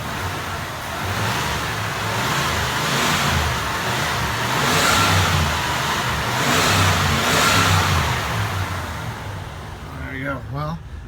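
A 1994 Cadillac Fleetwood Brougham engine idles steadily and is revved a couple of times, the pitch swelling and falling as the throttle is opened, with speech partly over the engine.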